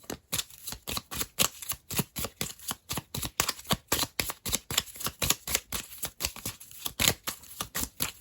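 A deck of tarot cards shuffled by hand in a steady, rapid rhythm of crisp riffles and slaps, close and clear, with no voices.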